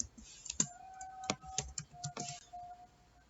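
Typing on a computer keyboard, a short burst of quiet, sharp key clicks in an irregular rhythm, close and alone without talk.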